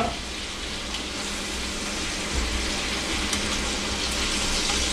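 Pieces of food laid into a hot pan to cook briefly on one side, giving a steady, fairly loud hiss and crackle of frying that runs unbroken throughout with no talking.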